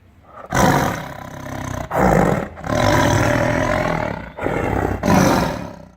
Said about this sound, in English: For an example of land-based sound attacks, we can look to the tiger. Stay with me on this. Listening to its roar